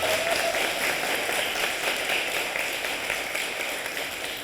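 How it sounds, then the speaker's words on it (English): An audience gives a round of applause at a public health centennial celebration, steady moderate clapping from a crowd that continues throughout and fades slightly at the end. "Let's give them another round of applause."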